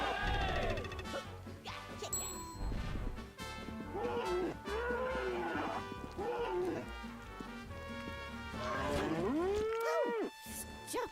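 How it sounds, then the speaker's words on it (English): Cow mooing in the video game Conker's Bad Fur Day, several drawn-out moos rising and falling over game music and effects, with a crash-like hit near the end. "A cow."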